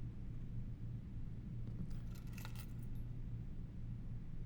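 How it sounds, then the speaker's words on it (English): Car keys jangle briefly in the video game Blue Prince, a short metallic rattle rising over a low steady rumble, faint and without talk. "There's a car keys."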